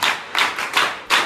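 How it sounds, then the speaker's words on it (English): A small group claps in short separated bursts, about four or five quick rounds of hand claps at a human rights education session, close and moderately loud with no talk over them. "Clap for yourself."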